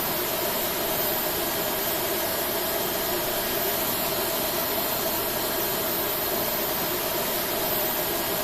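Number 1 jet engine of an A321 spools up in the FSX flight simulator, a steady broadband roar with a faint whine, constant and even throughout, no talk.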